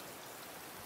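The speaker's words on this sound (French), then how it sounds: "vu qu'il pleut, tout est arrosé, c'est nickel" Steady in-game rain from the survival game Raft, a soft continuous hiss with no breaks, faint and alone.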